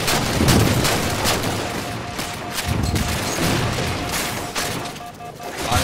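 Rapid shooter-game gunfire on the Strongside map: repeated sharp shots and bursts crackle close and loud over a busy battle din, with a player talking at times.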